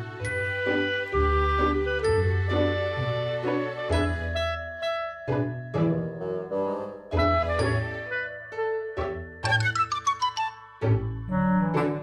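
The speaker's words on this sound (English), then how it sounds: "Grandpa would take the old family sleigh bells and run around the perimeter of the Bottman house." Old family sleigh bells ring out in a bright, sustained jingle, close and loud, alongside clear pitched ringing tones that rise and fall in a melodic pattern with no one talking.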